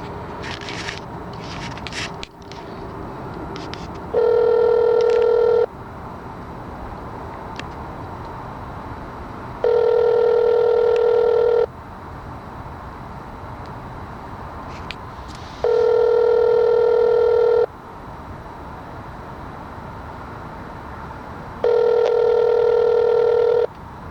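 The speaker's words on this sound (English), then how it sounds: "Let's see if no one answers this phone, and or if there's no voicemail." A phone call rings through a connected speaker, with four long, evenly spaced ringback tones separated by quieter gaps of faint room noise and no talking.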